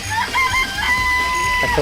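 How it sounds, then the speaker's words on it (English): A rooster crows loudly and close in the Danganronpa video game, a drawn-out cry lasting nearly two seconds, with clucking from chickens in a coop underneath. "I remember there were some chickens in the chicken coop."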